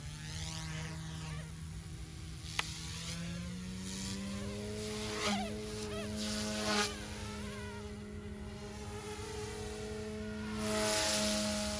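An OMPHOBBY M2 Explore RC helicopter flying, its rotor giving a steady whining buzz with drifting pitch as it speeds up and slows, heard at a moderate distance and fairly quiet.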